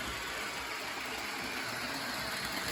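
An old model train locomotive running on its track, its small electric motor and gears giving a steady, continuous whirring hum with a broad rushing noise, unbroken and close throughout.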